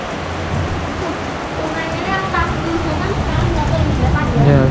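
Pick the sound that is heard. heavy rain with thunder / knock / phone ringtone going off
heavy rain with thunder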